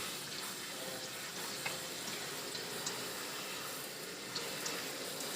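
A water spray rinses hair on wash day: a steady, soft hiss of running water, close and unbroken, with no talking.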